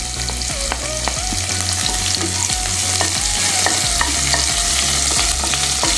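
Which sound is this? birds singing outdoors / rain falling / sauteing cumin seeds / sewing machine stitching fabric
sauteing cumin seeds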